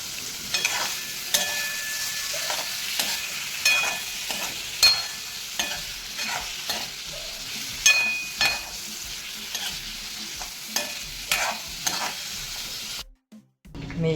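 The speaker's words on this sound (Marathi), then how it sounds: "आधी आपण इथे पनीर तळून घेऊया।" Paneer cubes fry in a pan, a steady sizzle with repeated stirring scrapes and clinks for about thirteen seconds, then the sound cuts out near the end.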